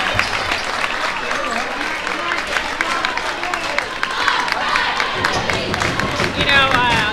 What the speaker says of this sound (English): As you can hear the crowd getting excited for Gallatin County.